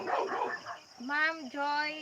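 A dog barks as someone approaches at night: two drawn-out, tonal barks or howls follow a brief stretch of talk, close and fairly loud.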